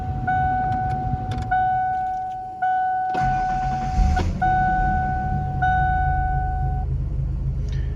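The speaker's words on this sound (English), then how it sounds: "I'm gonna start this thing up, take it for a little rip" A 1993 Ford Ranger pickup with 23k miles starts up: a long electric whine, then the engine catches around the midpoint and settles into a loud, close, steady idle rumble with no talk.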